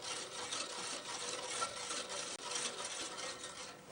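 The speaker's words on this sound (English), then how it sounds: "So we can have our egg yolks into our milk, and Then we give it a good stir" A whisk stirs egg yolks into milk in a bowl, producing a continuous close scraping, rubbing swish with no talk.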